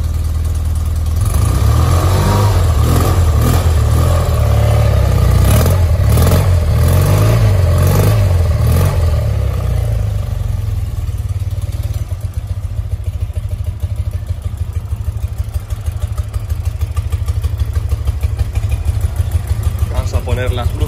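A BMW R100RS motorcycle engine, still cold, idles with a low, steady rumble and is revved several times in quick blips early on, then settles back to idle.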